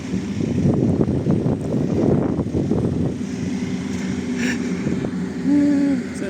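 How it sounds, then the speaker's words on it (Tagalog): Afternoon sandstorm wind in Saudi Arabia rushes in a steady, loud roar with gusty low rumbling throughout, plus a faint droning tone near the end. "Lakas yung dilim mo, sandstorm."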